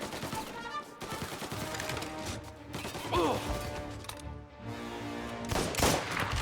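Gunfire in the game Mafia Definitive Edition, repeated shots and rifle bursts over dense mechanical game noise and background music, loud and continuous, with a player talking faintly underneath.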